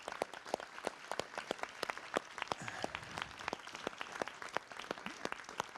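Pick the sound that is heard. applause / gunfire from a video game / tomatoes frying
applause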